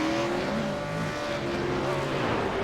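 V8 race cars on the circuit at Oran Park, engines roaring loud and continuous as they pass in a close pack, with shifting engine pitches overlapping throughout.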